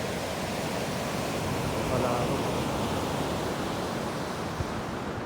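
Large ocean waves and strong wind on a shore make a continuous broadband roar with buffeting wind on the microphone, while a person speaks briefly over it.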